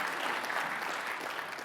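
A conference audience applauds Ross Fuller, a chief operating and financial officer, with steady, dense clapping that stays even throughout and carries no talk.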